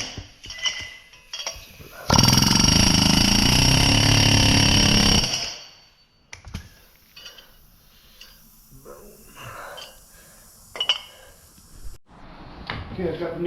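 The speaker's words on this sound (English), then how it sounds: "I like to use the air hammer for quick pounding" A loud pneumatic air hammer pressing in wheel studs on a 2024 Polaris Ranger rattles continuously for about three seconds amid workshop clatter, then stops, followed by scattered tool clicks and rustling.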